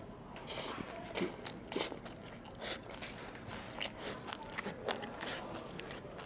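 Biting and chewing raw seafood mixed with seaweed, vegetables and chili sauce at a Noryangjin market restaurant: close, wet crunches and squishy chews come in uneven bursts, with soft background murmur.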